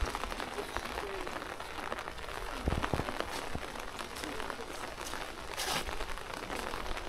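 Rain falling at a cemetery, a faint, steady patter with scattered sharp drops and crackles, continuous and fairly quiet without clear speech.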